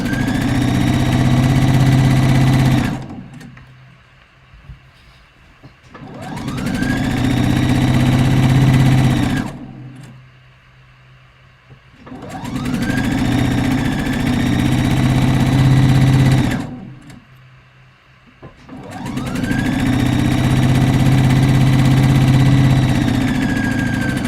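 A sewing machine runs in three long bursts of steady stitching, with short pauses between runs where the fabric is backstitched and repositioned, loud and close with no talking.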